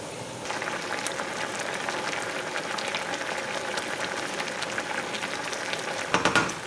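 Banana peels simmering in a pot of water for tea produce a steady, soft bubbling hiss at moderate volume, with a small clatter near the end and no voices.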